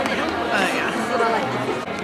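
Steady crowd chatter fills an indoor venue before a concert at the Mezamashi Summer Splash event, a dense, continuous babble of many voices close around.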